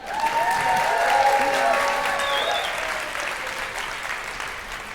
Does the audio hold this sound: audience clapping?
yes